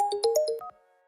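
A short melodic mobile ringtone plays a quick run of bright notes during a job interview, then cuts off.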